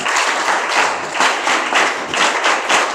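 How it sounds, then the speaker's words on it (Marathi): A crowd of schoolchildren claps loudly for their school staff, with many hands together in a dense, continuous applause that swells and dips in waves. "जे पाणी देणारे आहे की झाडझूड करणारे आहे साफ करणारे आहे तुमच्याकडे लक्ष ठेवणारे आहे त्यांच्यासाठी टाळ्या वाजवा"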